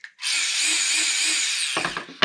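A Tamiya Dancing Rider T3-01 RC model with a torque-tuned 370 size motor whines steadily at close range for about two seconds, then sputters and cuts out, with no talking over it.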